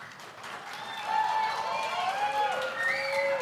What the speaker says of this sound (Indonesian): Boleh kita berikan apresiasi, tepuk tangan untuk paslon nomor urut 1 dan paslon nomor urut 2